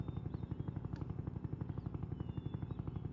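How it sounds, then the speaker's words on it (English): An attack helicopter in the Roblox game Jailbreak thumps with a fast, even rotor chop, steady and close throughout. "He has like the attack helicopter."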